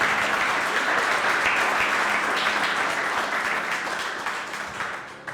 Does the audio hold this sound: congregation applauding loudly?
yes